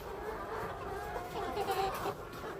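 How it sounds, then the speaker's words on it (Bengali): Layer hens feeding inside A-type pyramid cages cluck softly and continuously nearby, a low murmuring flock with occasional louder clucks over a steady background. "কিছু মুরগি খাবার খাইতেছে"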